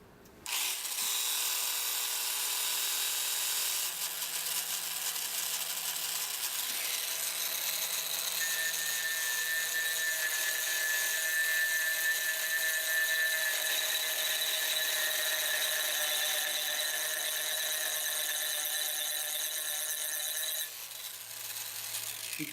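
A Merlin 2 rotary cutter carves and textures a surface with a steady high-pitched whine that runs continuously and loud for about twenty seconds, its tone rising partway through as the cutter bites, then cutting off abruptly near the end.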